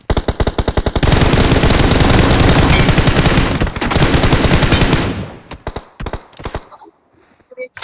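Rapid automatic gunfire in a shooter video game, loud dense bursts of shots rattling almost continuously for several seconds before breaking into scattered single shots and then near silence.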